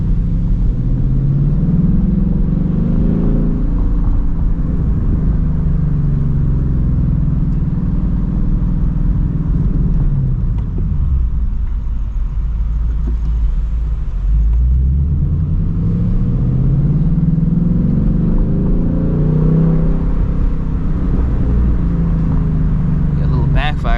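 A 2024 Ford Mustang GT rumbles loudly and continuously while driving through a city at night, its deep engine note swelling and falling as the revs change; distinct backfire pops are not clearly picked out.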